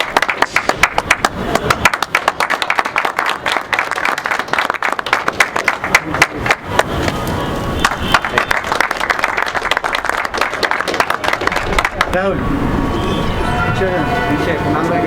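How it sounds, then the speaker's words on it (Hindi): Applause at a Jharkhand high-flying pigeon club award function, dense rapid clapping running through the clip with a crowd murmuring and talk mixed in, thinning toward the end. "तालियां जोरदार होनी चाहिए।"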